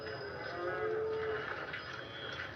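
A calf moos once in a drawn-out, wavering call at a ranch roping setting, close and clear over faint background hiss, with no talking.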